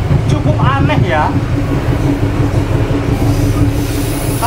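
The Pangrango train rolls along the Bogor–Sukabumi line in Indonesia, loud and close, its wheels squealing in sharp bursts over a constant rumble as a voice speaks under the noise.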